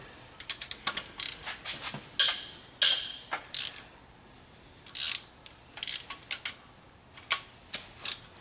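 A socket ratchet loosening cylinder head bolts on a 2007 Mini Cooper S R56, sharp close clicking bursts in irregular runs with short pauses between pulls.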